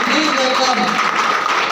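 An audience applauds to welcome a speaker onto the stage at an AWPL motivational event: dense, steady clapping that fills the short stretch at an even level.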